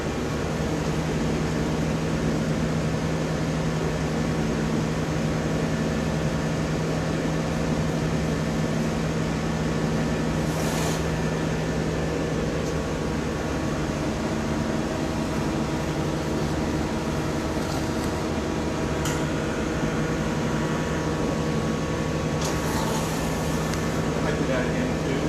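A glass-blowing furnace roaring steadily while a pink glass pumpkin is reheated in a New Orleans studio. It makes a loud, constant broadband rush that fills the whole clip, with brief faint clinks on top.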